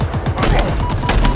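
Rapid sustained gunfire in the video game Halo Infinite, a loud dense fusillade of repeated shots filling the whole moment.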